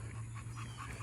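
Young American bully puppies play close by, giving short whimpering yips and panting noises over a steady low background hum.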